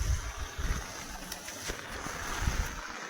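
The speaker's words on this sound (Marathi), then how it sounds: "आमच्या नदीचं धारण केलेलं रौद्र रूप आहे" A flooded river rushes through forest during the monsoon, a broad, steady roar of churning water with low rumbling gusts, heard from the bank.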